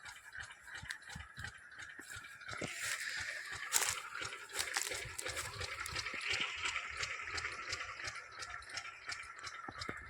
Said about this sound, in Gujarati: ફાટિયામાં સહેજ પાણી આવી રહ્યું છે